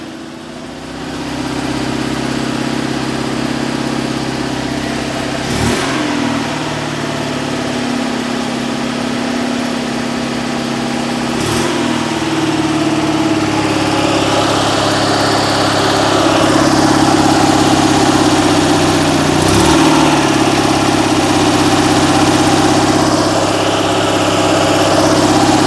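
An Invacar's small engine idles with a continuous loud, rough drone, the revs shifting slightly as the choke is adjusted and a few brief knocks cutting in, without speech.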